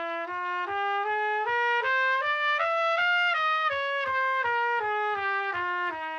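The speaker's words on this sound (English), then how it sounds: "G melodic minor, you've got the 6th and 7th notes raised on the way up and flattened on the way down." Solo trumpet plays a G melodic minor scale ascending and then descending, with the sixth and seventh notes raised going up and lowered coming down, about fourteen clear, evenly spaced sustained notes with no talking.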